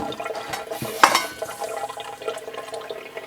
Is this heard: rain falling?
no